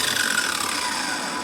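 An angle grinder and a heat gun run together off an Anker 767 portable power station, giving a steady, dense broadband whir with a ratcheting mechanical edge that holds level throughout without pause.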